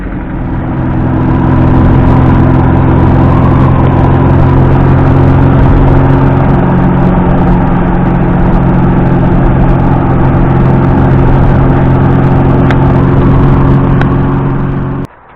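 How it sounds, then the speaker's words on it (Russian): A car engine idles steadily while warming up on a cold morning, a close, loud, even hum with a constant low drone that cuts off sharply at the end. "Машина сейчас греется"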